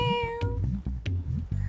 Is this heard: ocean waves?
no